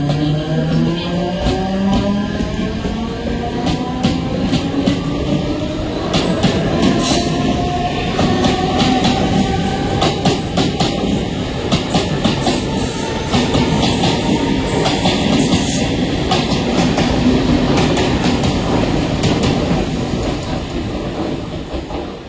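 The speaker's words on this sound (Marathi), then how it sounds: "तिथवाळ्याला जाणारी ही लोकल थोड्या वेळा प्लॅटफॉर्म क्रमांक 1 पर येत आहे।" Mumbai local train at a railway station platform, a continuous loud rumble of wheels and carriages with rising and falling screeching whines and rhythmic clatter throughout, no talking.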